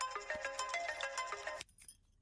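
A phone ringtone plays in a scene from the 2017 Telugu film DJ Duvvada Jagannadham, a steady tonal melody ringing for about a second and a half before cutting off abruptly into near silence.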